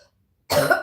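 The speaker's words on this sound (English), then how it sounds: "Awful cough" A single harsh, loud cough bursts out after a brief silence and lasts under half a second, close to the microphone.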